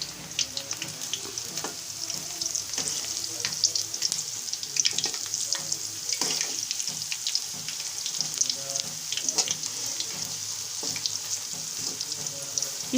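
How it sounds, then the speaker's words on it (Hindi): Pakoras for kadhi deep fry in hot oil with a constant dense crackling sizzle, close and steady, with occasional soft clinks of a utensil turning them. "पकोड़े हमने इसमें फ्राई करने के लिए हमने रख दिए हैं"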